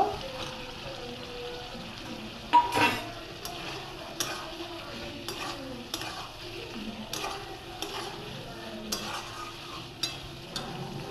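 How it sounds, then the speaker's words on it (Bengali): Pointed gourd stir-fries in spiced oil, a soft sizzle underneath repeated clicking scrapes of a spatula against the pan at a steady rhythm. "এবার আমি ওতে পটলটা দিয়ে কষতে লেগে যাব।"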